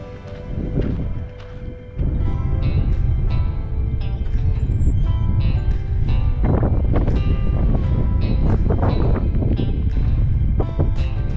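Strong gusty wind buffeting the microphone outdoors at a historic farm site in Capitol Reef National Park near Fruita, a loud continuous roar with surging bursts and no voices.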